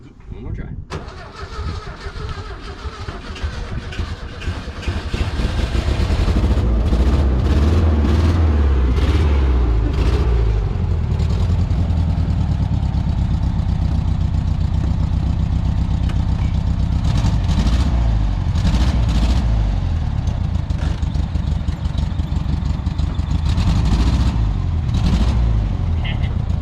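A 1970 VW Bug, abandoned for 20 years, cranks for a few seconds and then catches, settling into a loud, steady air-cooled engine run close by, with a person talking over it.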